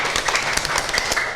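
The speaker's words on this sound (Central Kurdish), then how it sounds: "ئافرین یەک چەپڵێ قایمی بۆ لێبەر" Schoolchildren in a classroom clap their hands together in a quick burst of overlapping claps, close and fairly loud, lasting just over a second.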